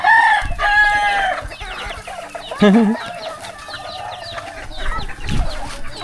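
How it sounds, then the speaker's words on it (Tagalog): Chickens cluck close by in a farmyard, with bursts of rooster-like calls and busy, overlapping squawks throughout, loud and up front. "pang katay-katay lang yung manok na yan"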